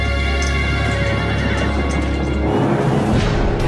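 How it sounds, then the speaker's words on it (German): Horses charge in battle, with loud, close neighing and whinnying over a dense rumble of galloping hooves and clatter in a reenactment of the Battle of Gaugamela. "Die Pferde rasen nun in diese Lücken hinein und die Falle schnappt zu."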